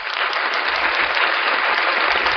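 Church audience applauding at a gospel gathering, a dense, loud, steady wash of many hands clapping throughout, nearby and sustained without pause.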